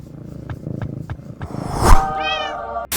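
A cat meows loudly up close, a drawn-out rising cry following softer rhythmic purring-like rumbles, then a sudden sharp noise at the end.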